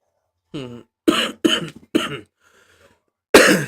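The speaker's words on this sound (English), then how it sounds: "Excuse the cough." A few harsh coughs come in quick succession, close to the microphone, followed by a pause and one final louder cough.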